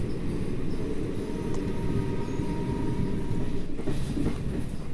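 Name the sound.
Amaravati Express train running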